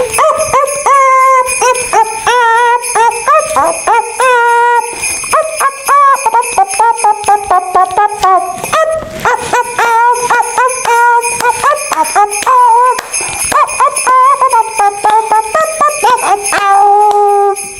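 A dog howls and yips in a long, wavering series of loud, high cries, rising and falling continuously over a backing of music.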